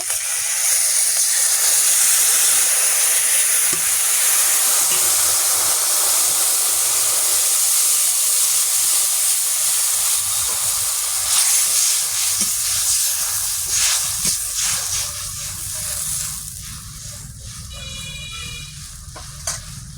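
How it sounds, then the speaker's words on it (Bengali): Fish pieces dropped into a hot pan of oil for a Bengali sour curry made with wood apple, hissing and sizzling loudly and steadily at close range, easing slightly toward the end with some stirring clatter. "মাছটা দিয়ে দেব"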